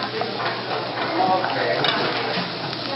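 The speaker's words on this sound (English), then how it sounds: "Just quickly move around, throw it together." Whole spices (cardamom pods, bay leaf and a cinnamon stick) stirred with frying onions in a pan for saffron bibimbap, giving a steady sizzle with soft scraping from the spoon, close and fairly loud throughout.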